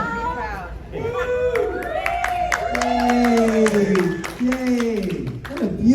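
A convention panel audience at Days of the Dead Indianapolis claps and cheers in a steady, full-room wash, with a voice speaking over the crowd noise throughout.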